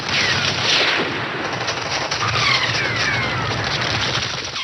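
Dense, continuous gunfire and booming blasts fill the scene, a loud chaotic barrage with no pauses.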